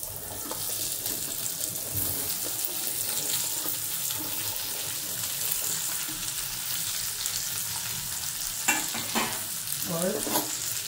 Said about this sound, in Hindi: एक बार मिक्स कर लेते हैं।